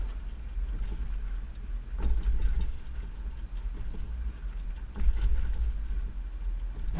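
A 2021 Subaru Outback Wagon with a hitch-mounted bike rack rolls slowly over speed bumps, a low rumbling drive with two distinct heavier thumps and rattles a few seconds apart.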